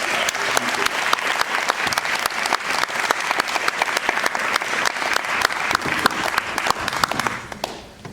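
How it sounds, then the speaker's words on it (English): Sustained audience applause at a prize-giving final for first and second place, dense steady clapping from a sizeable crowd throughout, tapering off at the very end. "Can we give them another round of applause?"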